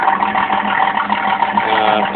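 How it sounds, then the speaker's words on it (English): A 1988 Camaro engine idles steadily with a low, even rumble and a faint rhythmic throb, running continuously and close by with no voices. "Now the car cranks right up."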